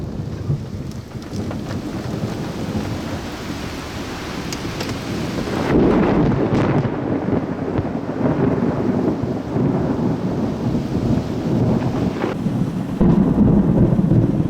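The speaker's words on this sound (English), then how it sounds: "Incredible cloud-to-ground lightning barrage here." Thunder from a cloud-to-ground lightning barrage rolls continuously through heavy rain during a storm chase, a loud sustained rumble that surges in waves with wind buffeting the microphone.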